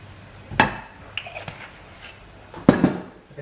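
A hot frying pan handled on the cooker while oil goes in for eggs: two loud metallic clanks with a few lighter taps between, close and alone.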